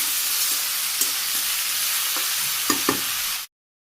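Food sizzles steadily in a hot pan while salt is added during simple village-style Bangladeshi cooking, with a few soft scraping stirs near the end before it cuts off abruptly.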